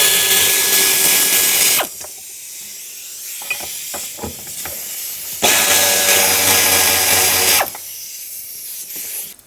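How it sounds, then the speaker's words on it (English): A power ratchet or air tool with an 8mm socket spinning out fuel tank cover bolts on a 1997-2001 Lexus ES300, two sustained hissing whirring runs separated by a pause with light clicks and handling noises. "8mm socket, remove both of those"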